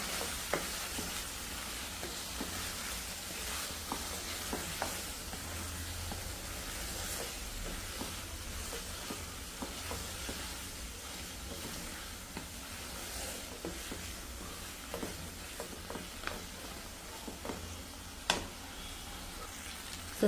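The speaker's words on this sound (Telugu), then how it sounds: "అందుకనేసి ఈ స్మెల్ పోయే వరకు బాగా వేయించుకున్నాం ముక్కల్ని." Meat pieces sizzle in ginger garlic paste in a home kitchen pan, a continuous frying hiss with scattered sharp stir scrapes and spatula knocks across twenty seconds, fairly quiet and with no one speaking.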